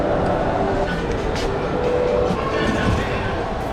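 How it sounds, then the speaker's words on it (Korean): The Sentosa monorail pulls into VivoCity station in Singapore, a loud, continuous rumbling hum of the arriving train filling the station at close range. "여기 오자마자 모노레일 도착했습니다"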